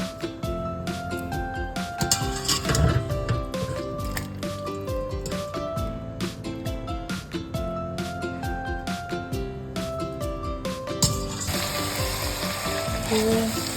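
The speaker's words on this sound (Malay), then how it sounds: "Kita kacau-kacau sampai daging itu sekata dengan cili tadi." Tender beef frying in a pan and being stirred into chili sambal for daging berlada, with dense crackling sizzle and repeated scraping stirs that run steadily throughout, with no one speaking.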